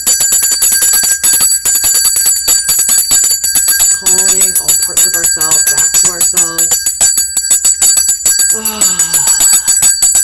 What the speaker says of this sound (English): just ring this little bell